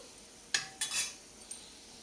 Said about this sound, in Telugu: మనం ఎప్పుడు కలుపుకుంటూ ఉండాలండి